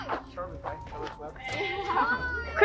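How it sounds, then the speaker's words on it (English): A goat bleats in a series of quavering calls at a farm or petting area, moderately close, mixed with people talking nearby. "The poor goat."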